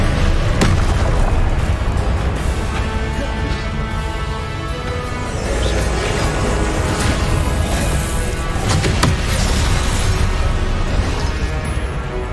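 Confringo blasting spells in Hogwarts Legacy burst again and again amid loud, dense combat noise, deep booming impacts and crackling debris rolling over a constant rumbling bed with no pause.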